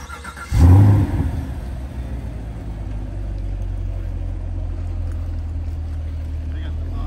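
A 2023 Chevy Camaro 1SS 1LE with dual exhaust fires up in a loud burst, then settles into a steady, deep rumbling idle close to the microphone.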